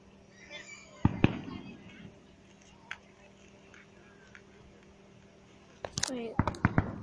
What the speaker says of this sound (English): We just saw some random fireworks.